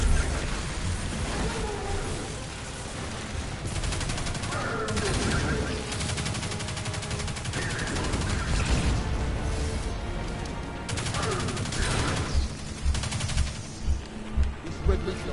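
Submachine gun fire in the video game Destiny 2 rattles in dense, continuous automatic bursts under a heavy wash of battle noise and music, with a few distinct louder shots near the end.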